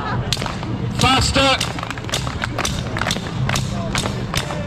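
A street crowd claps in a quick, steady rhythm for a performer, sharp and fairly close, while a voice calls out briefly over the beat.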